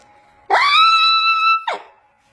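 A single loud, high, sustained scream imitated by a voice, lasting about a second before a brief shrill tail, close and alone.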